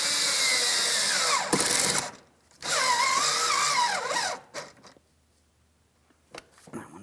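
A power drill drives Phillips head screws into the front inner fender splash guard of a 2007-2014 GMC Sierra 2500 HD, two loud whirring bursts with rising and falling pitch, then quiet with faint clicks.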